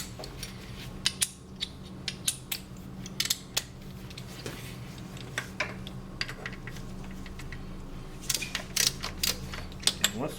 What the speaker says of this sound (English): Once it's cracked loose, you just take these 4 mount bolts out like so